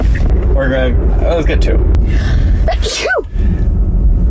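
A single sharp sneeze bursts out mid-conversation at a restaurant table, close and loud, surrounded by casual talk from several people over a low background rumble.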